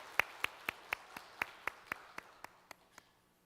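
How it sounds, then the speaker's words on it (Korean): Church congregation at a Korean Sunday Lent worship service claps in encouragement after a hymn: about a dozen crisp, evenly spaced claps in a steady rhythm, growing fainter toward the end and then stopping. "우리 격려의 박수 함께 좀 보내줍시다"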